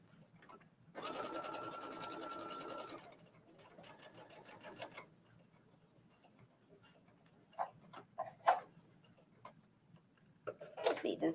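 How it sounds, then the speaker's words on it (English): A sewing machine stitches fabric along chalk marks in two bursts of rapid whirring, one longer and one shorter, followed by quiet handling clicks and fabric rustles. "I'm just going to start at the one end, sew all the way down, and show you what those chalk marks really mean"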